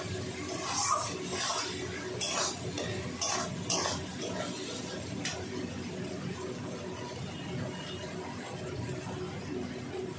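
Spices stir-fried in a pan while cooking goat curry, soft scraping and stirring with light clinks of a utensil against the pan over a low, faint sizzle. The stirring is busier at first and settles into a quiet, steady background.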